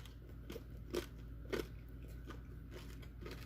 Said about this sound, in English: Nice and crunchy. A soft crunch, not a hard crunch where you break your teeth.